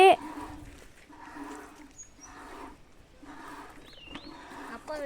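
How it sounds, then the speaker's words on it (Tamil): A cow is hand-milked in an evening farm routine, with rhythmic squirting streams hitting a pail in regular pulses about a second apart and a bird chirping briefly nearby. "எங்கள் அப்பா வந்து லக்ஷ்மியை கறந்துட்டுருக்காரு"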